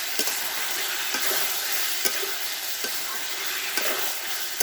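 Liver frying in a pan in a home kitchen, a steady bright sizzle with occasional faint clicks of stirring, close and continuous without talk.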